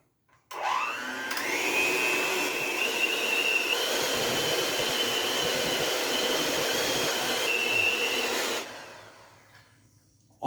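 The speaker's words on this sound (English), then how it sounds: "Now we'll get that mixed in really well with the mixer." An electric mixer whirs steadily through chocolate cheesecake batter, a loud continuous motor whine that starts abruptly, holds for about eight seconds, then winds down as it slows and is pulled out.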